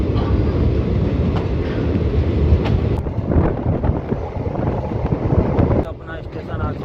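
Steady rumble and rattle of a passenger train in motion, heard from inside a crowded coach on a half-hour ride to Jaipur station, loud and continuous with a brief dip near the end; no one speaks.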